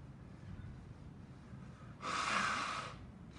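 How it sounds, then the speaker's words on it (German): A single nose blow, a short forceful hissing burst of about one second, loud and close, set against a quiet room hum. "schnell noch Nase putzen"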